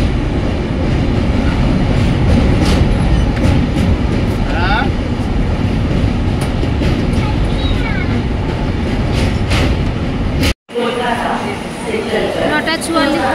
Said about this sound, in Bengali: কারণ সারা রাতের একটা ট্রেন জার্নির ব্যাপার।